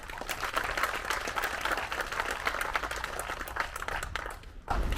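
An outdoor crowd at a disc golf tournament applauds its volunteers and partners, a steady wash of many hands clapping at even loudness that breaks off briefly near the end before resuming.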